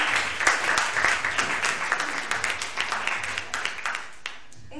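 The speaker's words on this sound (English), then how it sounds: "Let's just give them a round of applause." Warm applause from a small audience at a Nerd Nite Tokyo gathering, a steady patter of many hands clapping that thins out and fades near the end, with no talking.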